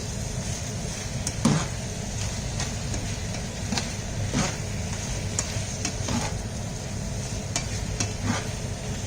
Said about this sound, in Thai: นี่เราก็จะผัดไปเรื่อยๆให้สุกนะคะ